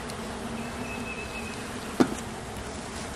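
Steady, low insect buzzing from many honey bees at an open hive being smoked fills the space, with a brief soft knock partway through.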